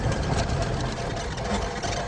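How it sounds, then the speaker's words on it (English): A simulated Cessna piston engine in Microsoft Flight Simulator X cranks and chugs roughly in a start attempt, a steady close mechanical rumble with uneven knocking pulses and no talk. "we'll go ahead and turn the key to start the engine"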